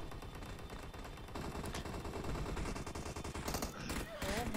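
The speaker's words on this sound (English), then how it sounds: "They're shooting me!" Video game gunfire crackles in dense, sustained bursts of rapid shots, loud and continuous throughout with little pause.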